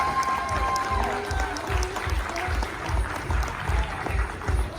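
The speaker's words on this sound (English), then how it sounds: "Let's give this little lady a big round of applause." Audience applause at a Christmas magic show, a broad wash of clapping with scattered cheers and a rhythmic low thumping underneath, while people talk faintly over it.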